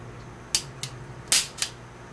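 An unloaded double-action gun dry-fired four times, giving sharp, close metallic clicks in an uneven rhythm against a quiet background.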